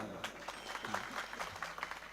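Rhythmic group clapping at a Varkari devotional gathering during a Hanuman saptah, steady sharp claps in a brisk repeating beat that keeps time with the Pingala Mahadwari chant, close and fairly loud.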